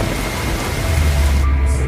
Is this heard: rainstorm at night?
yes